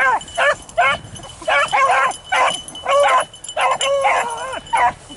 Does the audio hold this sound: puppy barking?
yes